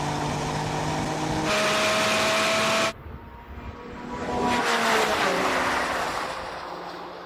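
Several cars drag racing, including a BMW M2, Porsche GT4 RS, Mercedes A45, Audi RS3 and Golf R, engines roaring steadily at close range, with an abrupt shift in pitch partway through and the revving rising again toward the end.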